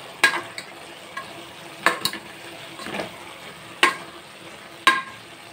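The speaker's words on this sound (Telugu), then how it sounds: "ఇంకొకసారి బాగా ఇలా కలుపుకుందాం." Beans and tomato curry are stirred in a pan. A spoon scrapes the pan in a few sharp strokes spaced about a second apart over a low background sizzle, close and fairly quiet, with no talking.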